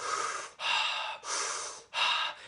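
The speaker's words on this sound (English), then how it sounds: "That's why it's called circular breathing, because you don't stop the breath." Circular breathwork with no pause between breaths, four long, loud, close airy breaths running straight into one another in a steady rhythm, with only brief dips where inhale turns to exhale.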